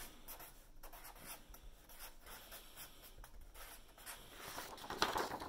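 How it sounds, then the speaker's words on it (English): Pen or pencil writing a single word on paper for a vocabulary word web, a quiet steady scratching and rubbing close up, with a slightly firmer stroke near the end and no talking. "I'm going to write the word down"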